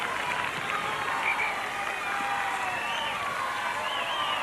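Crowd at a 1987 netball World Cup final between Australia and New Zealand applauds a departing player: a steady, dense wash of clapping and murmuring fills the hall throughout, with no gaps.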